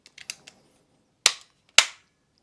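Hammer of an L85A1 (SA80) rifle dropping after the trigger is released: a few light mechanical clicks, then two sharp, loud metallic snaps about half a second apart, close and alone in silence.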